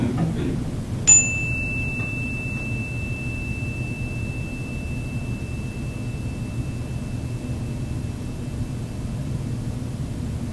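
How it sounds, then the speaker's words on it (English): A single struck bell rings out once near the start, then holds a clear sustained tone that slowly fades over several seconds above a low, steady background rumble in a mindfulness session. "when you don't hear the sound of the bell anymore, put your hand on your belly"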